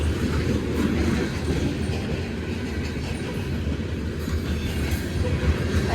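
Union Pacific grain train rolling past through town, a steady loud rumble of freight cars with faint clickety-clack from the wheels, continuous and close throughout.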